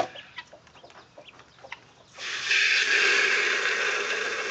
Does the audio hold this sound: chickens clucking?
yes